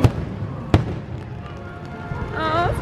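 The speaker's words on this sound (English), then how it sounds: "Oh, I need to get the fireworks in the background." Fireworks bursting at Disney World at night, two sharp booms standing out over a low background rumble, with a faint high whistling near the end.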